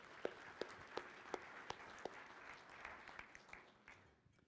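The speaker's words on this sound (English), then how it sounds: "Jason, let's give him a round of applause." An audience at a Rotary club meeting in Toledo applauds, scattered claps spreading into a soft, distant round of applause that fades out, faint in a large room.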